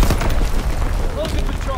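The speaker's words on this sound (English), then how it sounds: "Coordinates confirmed. Firing on target." Artillery fire from a World War II Ardennes battle game, a dense rolling barrage of booms and gunfire sustained across the whole stretch, loud and continuous, with faint voices mixed in.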